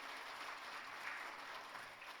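A church congregation applauds newly appointed officers and choir members in steady, even clapping that runs throughout, fairly soft and distant with no voices.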